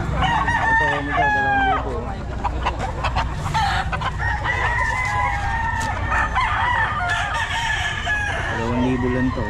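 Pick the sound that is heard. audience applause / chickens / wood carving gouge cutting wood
chickens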